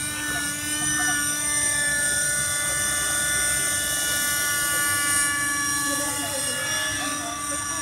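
Hirobo SDX radio-controlled model helicopter flying over an open field, its steady high-pitched engine whine and rotor buzz continuous and loud throughout, with faint voices in the background.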